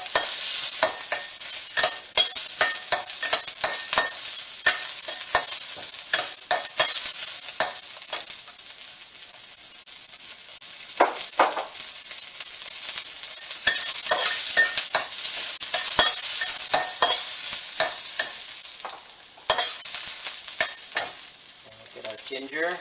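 Onions sizzling in hot oil in a pan for ribs in garlic sauce, a continuous bright hiss with frequent scrapes and clinks of a utensil stirring, close and steady throughout.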